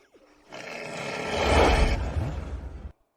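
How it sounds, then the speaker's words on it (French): A wolf kept as a pet in a large mansion lets out one loud, rough, sustained roar lasting over two seconds. It swells to a peak midway, then cuts off abruptly, with no talking. "Il y a un loup."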